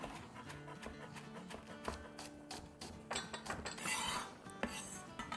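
A knife chops green onion on a cutting board for a Maggi noodle soup, giving a quick series of sharp, close taps and knocks, irregular at first and then clustering into faster strokes with a brief scraping rasp.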